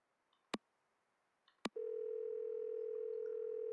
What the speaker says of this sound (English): I am gonna call Hardy Boys anyways.